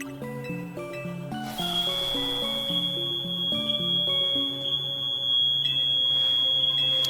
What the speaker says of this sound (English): Okay, well, that's the fire alarm.